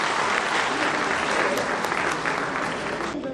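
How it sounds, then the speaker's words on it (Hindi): An audience at a welcome for a former BJP state president and minister bursts into sustained, full applause, a thick crowd of clapping hands that stays level for a few seconds and tapers slightly at the close. "स्वागत के समय हम लोग तालियां बजाने में कोई कंजूसी नहीं करें"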